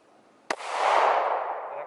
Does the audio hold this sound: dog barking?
no